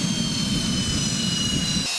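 A loud, steady jet aircraft engine roar from a plane landing on a drifting Arctic ice station on one-year sea ice, broadband and continuous with no voices, cutting off abruptly at the very end.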